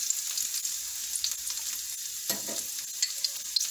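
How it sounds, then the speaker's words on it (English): White and purple onions with broccoli sautéing in a frying pan ahead of an omelette, giving a steady close bright sizzle throughout, with a brief stir or shift of the pan partway through. "So I'm gonna put it in my frying pan and saute with some onions before I add the eggs"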